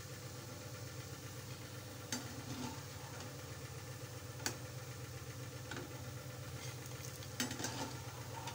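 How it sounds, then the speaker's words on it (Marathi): Shankarpali sweets fry in oil, giving a soft, continuous bubbling sizzle under a low steady hum, with a few sharp clicks or clinks from a utensil scattered throughout. "आता या शंकरपाळ्या छान तेलात तळून घेऊया आपण"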